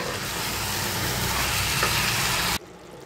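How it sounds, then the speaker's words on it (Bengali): Chicken curry being stirred in a kadai without added water, with a loud continuous sizzle and scraping of the wok, ending abruptly into near quiet. "আমি একটু হাত দিয়ে ভালো করে কড়াইটা ধরে নাড়াচাড়া দিয়ে নিই"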